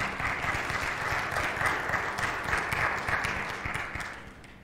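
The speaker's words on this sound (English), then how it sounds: "Give him a round of applause" A church congregation applauds a young boy, steady dense clapping from many hands filling the room, fading slightly toward the end.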